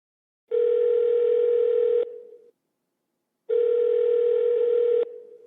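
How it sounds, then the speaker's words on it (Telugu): Telephone dial tone sounding while a phone call is placed, two steady loud bursts of about one and a half seconds each, separated by a short silence, with no voices. "ఈ అనిశ్చితితో బాధపడుతూ మానసిక క్షోభతో తన అక్క నాగమణికి ఫోన్ చేస్తోంది."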